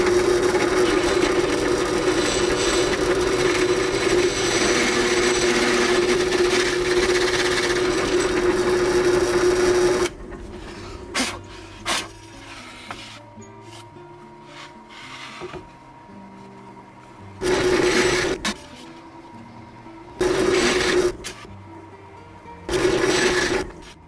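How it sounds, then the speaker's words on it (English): Steady, loud power sanding on a walnut wood tray for about ten seconds, then short intermittent bursts of sanding separated by quieter gaps. "Now, get to sanding this thing."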